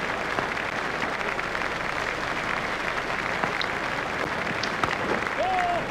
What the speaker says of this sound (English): Tendulkar raises his bat to the crowd to acknowledge the applause